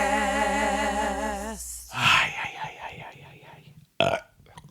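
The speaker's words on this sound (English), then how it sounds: "is that disrespectful to burp on a podcast?" A loud, drawn-out burp lasting nearly two seconds, deep and rumbling, followed by a short breathy voiced sound and a brief sharp noise near the end during a podcast recording.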